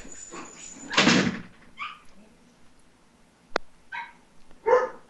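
Dogs bark in the background a few times, scattered and moderately loud, over a quiet backdrop with a thud like a door near the start.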